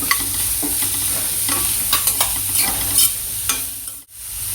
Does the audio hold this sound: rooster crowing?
no